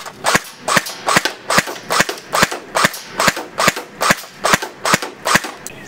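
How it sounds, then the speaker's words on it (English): An airsoft AK-74U fires single shots, about fifteen sharp, loud cracks spaced evenly in a steady rhythm, close up with no talk. "AK-74U single fire."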